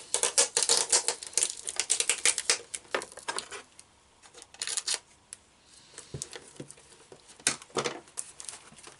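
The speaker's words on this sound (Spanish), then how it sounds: "Cerramos con cinta adhesiva transparente." Clear adhesive tape is pulled and wrapped to close a plastic bottle, giving bursts of crackly ripping and sticky peeling noises close up, busy at first, then sparser with pauses, and no talking.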